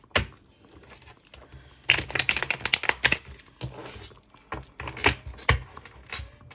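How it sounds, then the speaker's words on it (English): Tarot cards being shuffled by hand: quick bursts of crisp, papery riffling and tapping clicks, close and moderately loud, coming in uneven clusters with short pauses. "let's give this a little shuffle."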